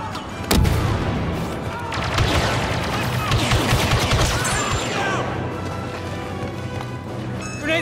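Grenade blast and gunfire in a Star Wars Battlefront II battle: a sharp close explosion early on, followed by dense, continuous crackling shots and rumbling combat noise that stays loud throughout.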